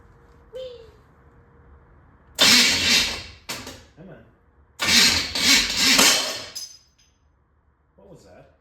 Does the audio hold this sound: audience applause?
no